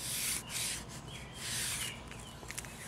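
Plain masking tape pulled off the roll and pressed down over a fiberglass panel before resin work, giving soft rubbing and tearing bursts in a few close, moderately loud strokes with no talking.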